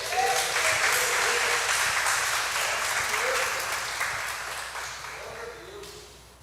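Church congregation applauding loudly during a Portuguese-language sermon, a dense, sustained wash of clapping that gradually fades over several seconds.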